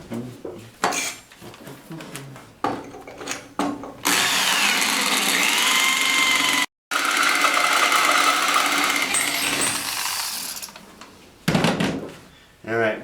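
A power drill with a cobalt bit bores into metal in a workshop, starting with short clicks and clanks, then grinding loudly and steadily up close, with a brief cut-out before the drilling resumes and then stops.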